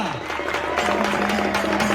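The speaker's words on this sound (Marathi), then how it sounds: "सर्वांनी जोरदार टाळ्या वाजवा." A crowd claps at a traditional wrestling bout, steady applause rising under an announcer's amplified voice.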